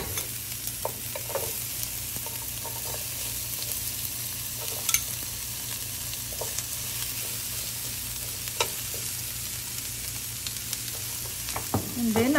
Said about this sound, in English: cook the mushrooms and the onions